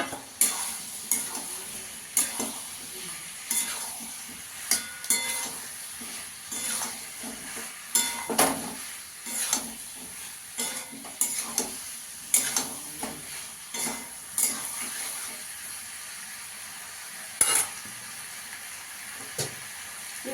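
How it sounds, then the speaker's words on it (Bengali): Fried potatoes sautéed with spices in a pan for aloo dum, a steady sizzle broken by repeated rhythmic scrapes and knocks of a spatula against the pan, close and moderately loud throughout. "আলুটা দিয়ে ভালো করে কষিয়ে নেব।"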